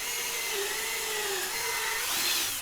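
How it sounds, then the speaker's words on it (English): A power drill whines steadily at high speed, close and loud, its pitch shifting slightly as it bores a quarter-inch hole. "Then drill a 1/4-inch hole on the marked spots."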